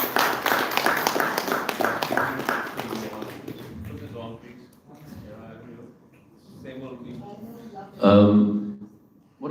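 An audience claps loudly during a memento presentation at an institute event, a burst of rapid claps at the start that fades into someone speaking.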